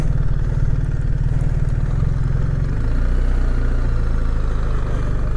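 A BMW R1300 GS ASA motorcycle engine idles close by in a steady, low, throbbing rumble, alone with no talk, its tone shifting slightly partway through.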